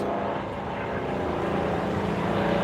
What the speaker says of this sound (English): Oh, it's always a helicopter.